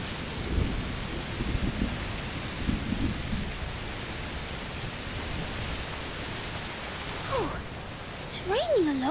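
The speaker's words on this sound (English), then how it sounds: "Raining a lot? Yes. Must be a heat storm." Steady rain falls with low rumbles of thunder rolling underneath in the video game A Plague Tale: Requiem, and a voice briefly sounds near the end.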